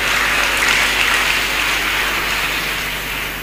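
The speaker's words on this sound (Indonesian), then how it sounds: "Tepuk tangan untuk beliau." Audience applause after a general from the Akpol 1997 class is introduced at a public talk, a dense, steady clapping wash that fills the whole moment and fades slightly toward the end.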